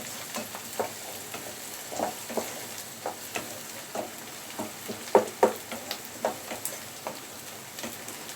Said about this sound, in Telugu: మనం ఆనియన్స్ కలుపుతూ ఉండాలి, లేదంటే మాడిపోతాయి. మనం స్టవ్ హై ఫ్లేమ్లోనే పెట్టుకున్నాము.